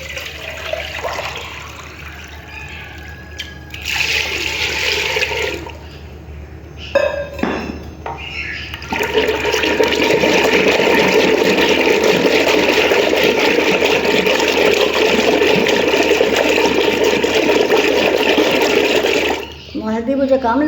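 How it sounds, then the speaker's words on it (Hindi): A mugful of water pours into a kadhi batter of yogurt and gram flour, a long, steady splashing pour lasting about ten seconds after some earlier clatter of the vessel and short sloshes. "अब मैं इसमें ये मग्गा भर के पानी का डालने लगी।"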